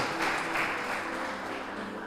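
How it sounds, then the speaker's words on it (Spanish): A church congregation applauds during a Spanish-language sermon, a dense, steady wash of many hands clapping at moderate distance that slowly fades, with no speech over it. "Si usted lo cree, déle un fuerte aplauso."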